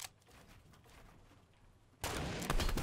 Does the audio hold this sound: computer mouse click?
no